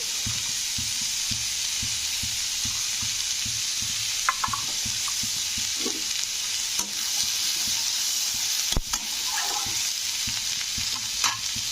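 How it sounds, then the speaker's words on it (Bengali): Green peas and onions fry in a pan with a constant loud sizzle, while a spatula scrapes and stirs in a steady, repeated rhythm and a few sharper clinks and knocks break through close by. "মানে পেঁয়াজের সঙ্গে একটু কষে নিতে হবে ভালো করে এবারে আমি মটরশুঁটিগুলো দিয়ে দিলাম"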